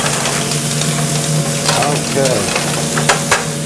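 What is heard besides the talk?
stirring red snapper fillet in a frying pan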